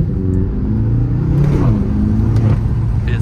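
A BMW M6 engine accelerates in city traffic, its low rumble rising in pitch as the car pulls away, loud and continuous, heard from inside the cabin.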